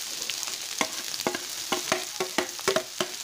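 Onion and ginger sauté in a pan with a soft sizzle, broken by a run of sharp, irregular clicks as a utensil stirs and scrapes against the pan.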